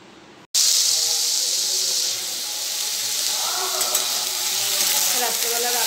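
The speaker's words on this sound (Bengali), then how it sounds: "কালো জিরে আর শুকনো লঙ্কা ফোড়ন দিয়েছি" Black cumin seeds and dried red chillies hit hot oil for a tempering and burst into a loud, steady sizzle and hiss. It sounds close, with a soft knock at the start and the frying continuing throughout.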